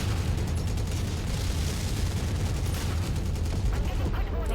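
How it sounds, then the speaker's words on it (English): Rapid, dense machine-gun fire from a MechWarrior Otomo Mauler mech with six guns, a continuous crackling barrage of shots heard at moderate level without a break. "Nice, nice machine guns. They're just shredding things."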